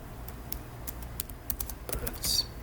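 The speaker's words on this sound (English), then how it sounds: "I'm going to type hi, give me a list of products." Someone types a short query on a computer keyboard, a quick irregular run of light clicking keystrokes near the microphone, building to a denser burst toward the end, with no talking.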